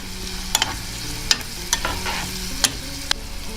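Tomato paste sautés in a pan for a spinach dish, with a steady soft frying sizzle broken by five or six sharp, close spatula scrapes and taps at irregular intervals.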